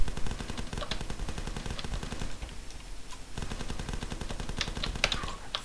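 Gunfire in the game The Last Stand rattles as a dense, continuous stream of rapid shots at moderate loudness, with a short thinning near the middle before the steady firing picks back up.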